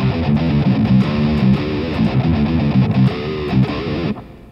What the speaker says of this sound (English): You can go all the way down to seven down, seven half steps down.